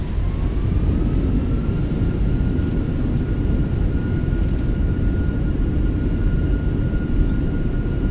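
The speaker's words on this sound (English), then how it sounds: "So we got it, that butter smooth landing." Airliner landing in Microsoft Flight Simulator 2024, a loud, steady engine roar with a thin whine that rises at first and then holds level, no voices.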